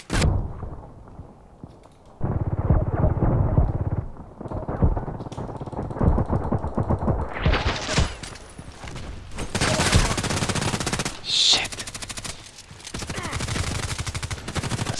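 Gunfire from the online shooter Contract Wars, with a Glock among the weapons, comes in bursts of rapid shots and louder cracks, quiet stretches between volleys, and a brief voice under the action.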